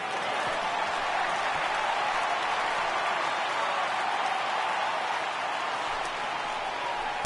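A baseball stadium crowd roars in a sustained, loud wave of cheering after a near home run that turns foul, a dense steady wash of voices that dips slightly near the end.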